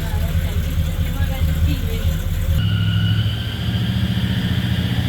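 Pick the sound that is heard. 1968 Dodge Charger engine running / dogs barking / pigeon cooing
1968 Dodge Charger engine running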